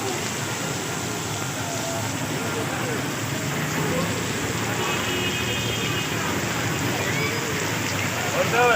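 Rain falls on a rainy day in Karachi as a constant wash of patter, with faint road traffic behind and people talking over it, the level swelling slightly toward the end.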